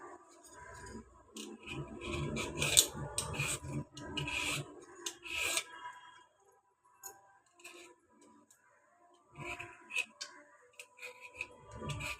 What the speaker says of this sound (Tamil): மாங்காய் தோல் சீவி எடுத்துக்கலாம்